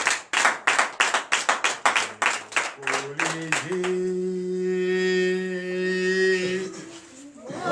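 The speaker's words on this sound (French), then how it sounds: "Donnez l'acclamation à notre Seigneur" A church congregation claps in rhythmic acclamation at a night prayer service, a run of sharp, evenly spaced claps close by that gives way to sustained singing or chanting voices.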